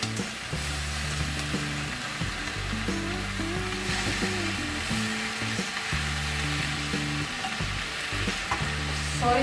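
Tofu stir-frying in a pan for a tofu and kangkong stir fry: a continuous sizzle runs underneath repeated scraping and tossing of a spatula against the pan, close and fairly loud.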